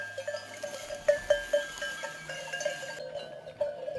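Bells clank repeatedly in an irregular rhythm as a flock of sheep moves nearby in the mountains, with faint bleating mixed in.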